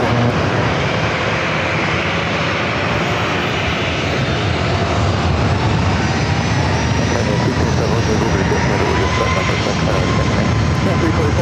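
A jet airliner on takeoff at San Diego airport roars with loud, sustained engine noise that fills the whole stretch, while a radio voice talks over it.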